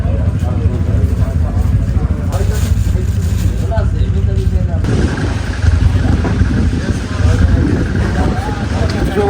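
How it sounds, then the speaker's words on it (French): Quad bike engine droning steadily while riding through the Qatari desert, a continuous loud rumble with wind noise and people talking over it. "c'est parti pour 30 minutes de quad dans le désert"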